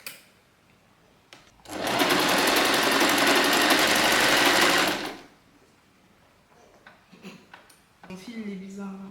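A domestic sewing machine stitches through heavy red fabric in one steady, loud run of about three seconds, with quiet handling noises before and after and a person speaking briefly near the end.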